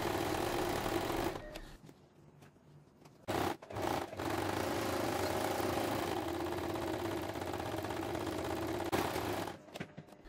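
A sewing machine stitches around the edges of a pressed niqab fabric, its motor whirring steadily in close, loud runs broken by a few short pauses.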